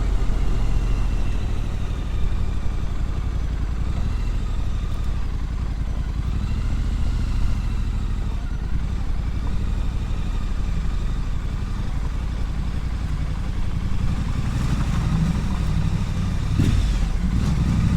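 A Triumph Scrambler motorcycle rumbles through village streets lined with houses, its engine a steady, loud, throaty drone close by that swells and eases with the throttle, a sharper rev rising near the end.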